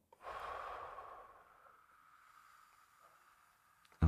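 Close, soft breathing during a yoga breathing exercise: one deep airy breath rises quickly, then fades over a few seconds into quiet, with a faint click at the very end.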